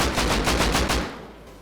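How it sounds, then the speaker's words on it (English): Rapid automatic gunfire in the video game Rust, about ten shots fired from a crouched stance, a loud, dense burst with even rhythm that stops abruptly and leaves a short fading tail. "We're just going to stay crouched, shoot 10 bullets from the bottom"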